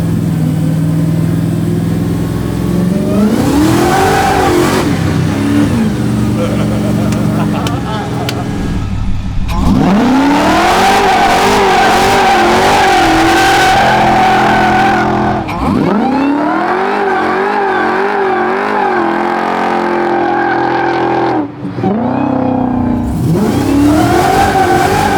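Loud Hellcat-powered 1967 Dodge Dart built by Gas Monkey Garage, engine revving hard and surging through repeated accelerations with rising and falling pitch, close up and continuous, with voices briefly audible in the background.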